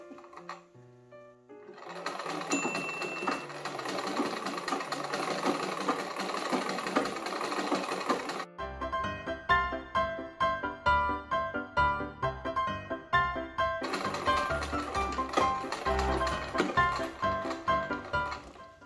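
A century-old sewing machine stitches at close range, first as a dense steady whir and then as rhythmic, pulsing mechanical chugging, with a brief faster run near the end.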